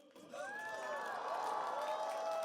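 Crowd cheering and applauding at a Buddha's Birthday lantern lighting ceremony on Dongguk University's campus, with a steady wash of noise and rising, whooping voices held at moderate distance.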